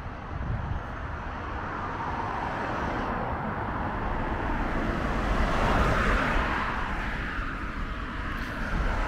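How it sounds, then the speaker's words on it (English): Cars roll past on a road in a steady broadband roar of traffic, swelling slightly as vehicles approach and pass close by. "Let's have a close up of these cars coming up."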